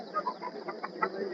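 Rooster clucking at a Saturday hen market in Mydukur, a few soft, irregular clucks close by amid low market murmur over a short stretch.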